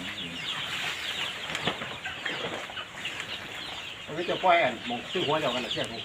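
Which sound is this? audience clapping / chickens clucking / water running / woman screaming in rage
chickens clucking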